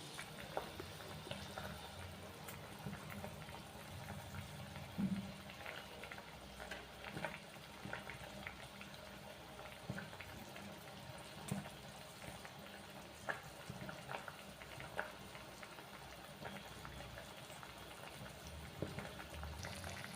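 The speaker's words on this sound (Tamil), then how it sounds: "சாம்பாருக்கு காய் வெந்துட்டுருக்கு." Vegetables for sambar bubble in a pot on the stove with a steady, low simmering burble and occasional small pops and clinks, continuing unbroken without talk.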